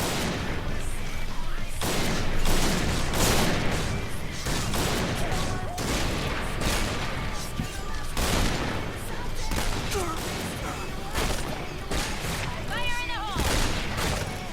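Repeated gunfire in the video game Point Blank, with a WA2000 sniper rifle among the weapons, sounding as a dense run of loud shots and bursts across the whole stretch while a person talks over it.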